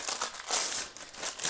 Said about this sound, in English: rip it like you're a kid